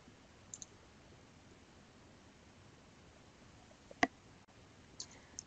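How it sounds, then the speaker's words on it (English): Computer mouse clicking at a desk, a faint double click near the start, a sharper single click around four seconds and another soft click near the end, set against quiet room hiss. "We're going to go ahead and click Next."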